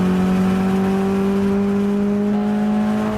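A 2010 Lotus Elise with its Toyota engine revs hard and loud up close, a sustained, steady high engine whine with strong harmonic tones that hold and climb slightly, with no talking over it.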